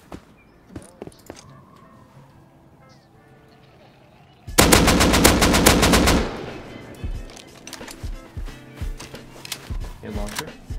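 A burst of rapid automatic L9 rifle fire in the game Rust rattles out loudly for a couple of seconds, preceded and followed by scattered quieter clicks and thuds, with players talking around it.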